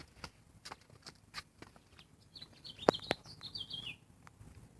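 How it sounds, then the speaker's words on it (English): A songbird in a forest calls with a few short high chirps and whistled notes, fairly faint and distant amid soft rustling footsteps and background patter. "bird up there. It's quite a beautiful sound."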